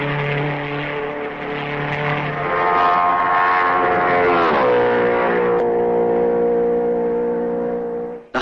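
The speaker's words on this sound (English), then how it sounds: "Driving almost wheel to wheel and drawing a little nearer to Farina each time round" Loud, sustained engine roar from 1955 Formula One racing cars at the Belgian Grand Prix, holding a steady droning pitch and then dropping noticeably partway through as the cars pass, with no talk.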